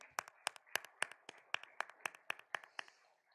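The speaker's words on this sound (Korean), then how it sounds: "곡을 두 번째 들으시니까 박수 소리가 더 커집니다" A church congregation at a Sunday communion service claps after the choir's hymn, about a dozen even, rhythmic claps in unison that sound faint and somewhat distant, with no talking.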